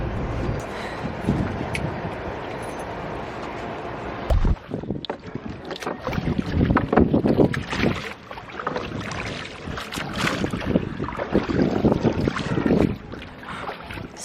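Oars stroking the water from a small rowboat beside a sailing boat, with steady splashes and dripping over a constant rush of wind buffeting the microphone, and no talking.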